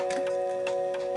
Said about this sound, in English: That's ticking away nicely.